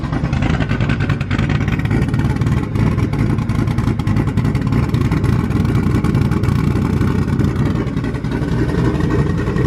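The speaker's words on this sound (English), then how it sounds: "It's crazy how much you can change the idle with just timing." A rebuilt car engine idling while its ignition timing is adjusted, giving a loud, steady, close rumble that holds throughout with only slight variations.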